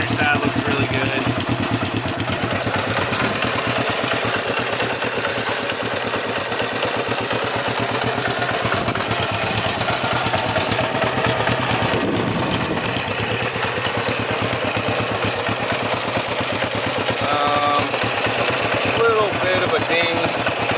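A 1967 Honda CB450 Black Bomber motorcycle runs after a cold start, its engine idling steadily and loudly nearby for the whole stretch, with a voice talking over it.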